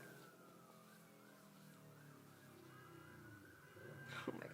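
A wailing siren rises and falls steadily in the distance, faint under background traffic noise, with a louder clatter near the end.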